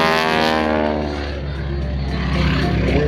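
A vintage airplane with a 450-horsepower Pratt & Whitney R985 radial engine drones loudly and steadily throughout, a continuous rumbling engine tone that holds close and strong with slight shifts in pitch.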